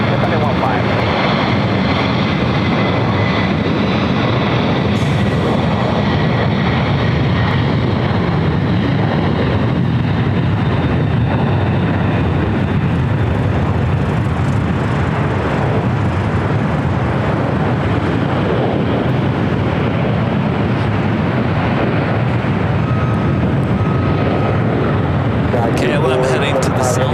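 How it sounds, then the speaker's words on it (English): A Japan Airlines jet rolls for takeoff on a runway at LAX, its engine roar loud and sustained throughout with a steady broad rumble, while radio-style voices talk over it. "Takeoff is Japan Airlines Flight 15 heading to Tokyo Haneda."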